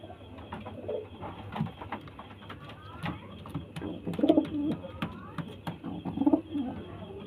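Pigeons cooing at a pigeon sale, several soft repeated coos and low throaty calls near and far, with other bird chirps and someone talking over them.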